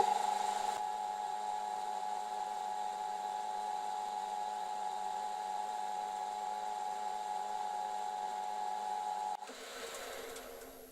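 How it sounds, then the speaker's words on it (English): A brush buffs the last coat of wax on a piece in a workshop, producing a steady whirring, machine-like drone for about nine seconds before dropping away, close and moderately quiet. "now just buff out the last coat of wax with my brush"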